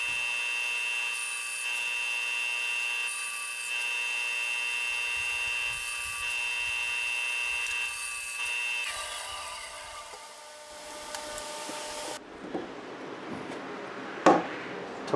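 A power saw trimming wooden workpieces to 2 inches in length for cabinet handles, running as a loud sustained whine that cuts off, followed by a few knocks and clatters of wood being handled.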